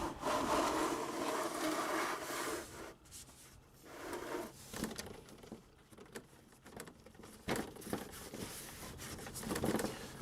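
Honda Accord coolant drain being closed by hand, heard as faint, close plastic scraping and rubbing with small clicks and shifting noises, uneven and quiet, with no speech.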